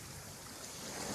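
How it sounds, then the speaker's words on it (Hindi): Flowing water of the Ganga river, a soft continuous rushing and lapping wash, steady and faint without distinct events. "माँ गंगा की इस ध्वनि से, कल कल करती ध्वनि से अपनी चेतना को पूरी तरह जोड़ने का प्रयास करेंगे।"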